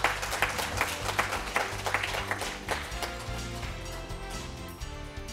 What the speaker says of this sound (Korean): 강연을 해주시는 한 교수님께 다시 한번 감사의 큰 박수 부탁드립니다.